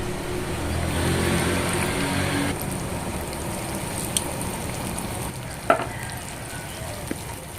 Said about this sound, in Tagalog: Pag mainit na, pwede na natin ilagay yung ipiprito nating isda